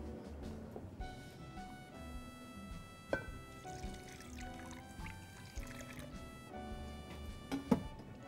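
A cup of room-temperature water is poured into a seasoned spice mixture in a home kitchen, a soft, continuous trickle and splash, faint and close, with clinks of utensils and light kitchen noise around it.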